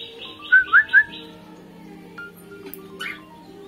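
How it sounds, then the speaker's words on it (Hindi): A bird calls from a tree: three quick, bright chirps close together near the start, then a quieter stretch with soft background hum and a faint later chirp. "वहाँ पेड़ पर एक पक्षी कुछ आवाजें निकाल रहा है"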